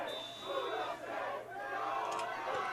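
A football cheering section chants and cheers at a championship game, a steady distant crowd roar that swells and dips without clear breaks.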